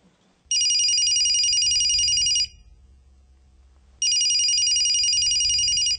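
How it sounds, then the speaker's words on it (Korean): A mobile phone rings loud and close, playing two long electronic ringtone bursts of about two seconds each, separated by a short quiet gap. "정현수의 휴대전화가 울리는 건 처음 있는 일이었다"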